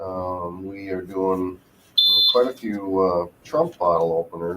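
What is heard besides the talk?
heat press alarm when heated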